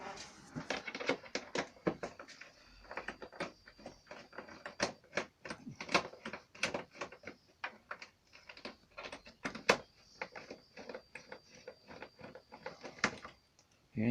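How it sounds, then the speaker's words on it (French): A screw on the front fairing of a 2014 Yamaha X-Max scooter is worked loose with a 5 mm Allen key, producing a series of quiet, close metallic clicks and ratcheting ticks at an irregular pace. "Ici toujours pareil, clé Allen de 5 d'un côté et de l'autre côté."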